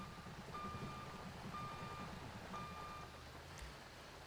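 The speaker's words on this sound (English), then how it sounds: "Backing truck out of garage." Truck reversing alarm in GTA 5 as the vehicle backs out of a garage: three evenly spaced beeps about a second apart over a steady low engine rumble, with a brief thump near the end.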